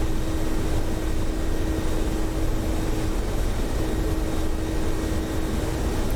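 A Mi-24P Hind helicopter coming in to land in the DCS flight simulator, its engine and rotor noise a loud, steady, unbroken drone throughout, with no one talking.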